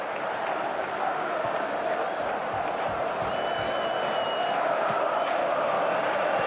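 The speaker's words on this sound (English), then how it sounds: "And the crowd really enjoying it" Broad, steady roar of a football match crowd at a Kitchee FC HK versus Men Club game, a continuous wash of cheering and murmur filling the whole stretch with no break, distant and diffuse rather than close.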